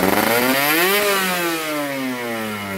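A motorcycle fitted with a PWK 30 carburetor and a 32 reamer revs hard and close, its engine note rising sharply to a peak around one second, then easing slowly back down.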